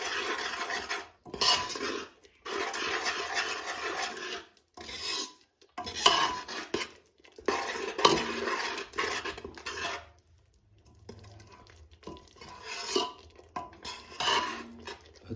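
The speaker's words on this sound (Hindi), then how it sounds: "ये सब गिरने के बाद इतनी अच्छे से मिक्स करना है पहले।" A spoon scrapes and stirs in a metal pan as spices and dried fenugreek leaves are mixed into a vegetable curry, in repeated short rasping bursts with brief pauses, close and moderately loud.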